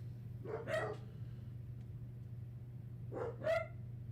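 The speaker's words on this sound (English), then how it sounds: "my dog's barking upstairs" A dog barks from upstairs, two separate muffled barks a few seconds apart heard over a steady low electrical hum indoors.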